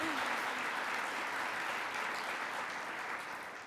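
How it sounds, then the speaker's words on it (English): Steady applause from an audience at a community college national event, dense sustained clapping throughout that tapers slightly toward the end. "You can clap for that."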